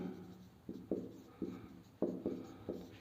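Chalk or a marker writes on a board during a grammar lesson, scratching out short strokes and taps in an uneven rhythm, faint and close, with no talking.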